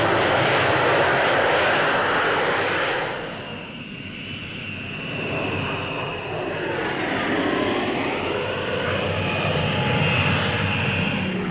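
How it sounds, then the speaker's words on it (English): An Avro Vulcan bomber flies over Farnborough at a 1950s air show, its engines giving a loud, sustained roar that swells, dips briefly and then builds again as the aircraft passes. "Avro test pilot Roland Falk, flying over Farnborough, put the giant bomber into a perfect roll as if it were a fighter"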